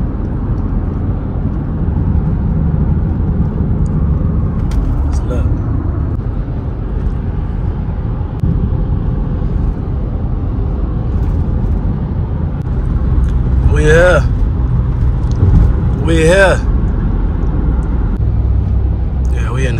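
Car cruising through congested city traffic, heard as a steady low road and engine rumble from inside the cabin, with two brief high squeals near the end and voices talking over it.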